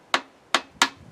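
Three light, sharp hammer taps, close and evenly spaced, seat a felt seal into its groove on a Farmall Super A tractor engine block during a rebuild.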